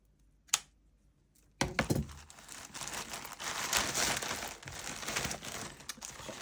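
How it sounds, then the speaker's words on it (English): Paper being trimmed for a junk journal embellishment with a little yellow ruffled edge: a single sharp snip, a pause, then steady close crinkling and rustling of paper that continues throughout. "I'll just trim off a little bit."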